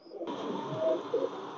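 A Pakistani teddy pigeon gives soft, low cooing notes up close against a faint background hum, with no talking.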